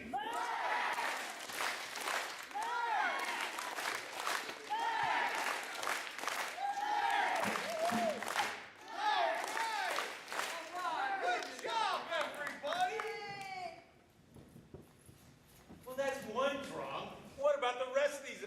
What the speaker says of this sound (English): we're going to yell learn, and we're going to clap our hands 3 times